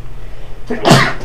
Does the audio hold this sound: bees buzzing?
no